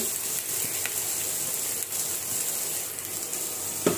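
Spice masala with onions sautéing in oil in a pan, giving a continuous close hissing sizzle throughout. A faint clink sounds near the end.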